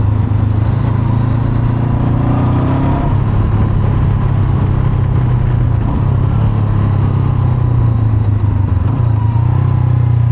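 A 2021 Honda CB500X motorcycle engine hums loudly and steadily while riding, a smooth mid-pitched drone with wind rush and a slight shift in tone early on, heard close without speech.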